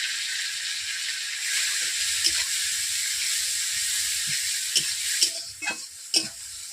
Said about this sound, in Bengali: দিয়ে দিচ্ছি পেঁয়াজ পেস্ট